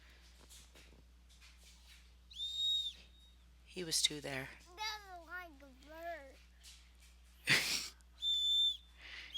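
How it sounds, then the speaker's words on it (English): A small bird-like toy whistle clipped to a young child's backpack chirps in short warbling bursts, several separate toots and trills, close and clear, alternating with a child's babbling and an adult speaking. "He's so excited about the little whistle on his backpack. It sounds like a bird."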